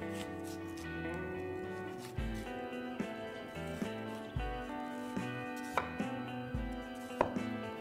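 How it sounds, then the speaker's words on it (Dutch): A knife cuts peeled bell pepper into very fine julienne on a cutting board, giving soft, steady chopping taps under background music. "Dan ga ik de paprika in stukken snijden en in hele fijne julienne."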